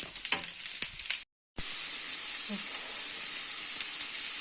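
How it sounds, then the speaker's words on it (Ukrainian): Steady hiss of button mushrooms and tomatoes sizzling in a pan without oil, with a brief dropout partway through and faint clinks of a utensil. "Так, смажиться без масла."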